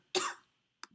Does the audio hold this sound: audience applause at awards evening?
no